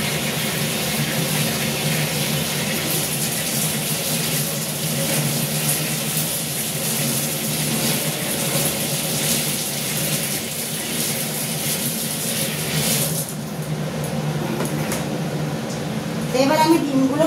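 Running tap water steadily splashes over finely chopped onion and green chilli in a kitchen, a continuous close gush that briefly changes tone near the end.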